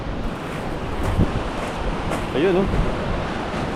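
Strong ocean waves wash on the beach at Masanga Point in General Nakar, Quezon Province, a steady close roar of surf with wind buffeting the microphone, and a voice speaks briefly over it.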